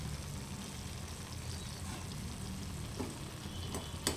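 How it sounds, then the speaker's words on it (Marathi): Chapatis brushed with ghee roast on a hot pan with a steady, even sizzle throughout, close and continuous, broken by a couple of light taps near the end. "तूप लावून शेकलेल्या चपात्या"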